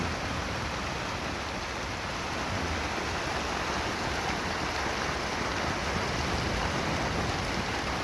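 Steady, dense rain pouring down, a continuous hiss with no breaks and no voices.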